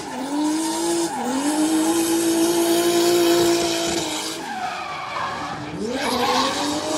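A drift car slides around the track at an Ultimate Drift event in Londrina, its tires squealing loudly and steadily for several seconds, easing off, then screeching again over the engine's roar.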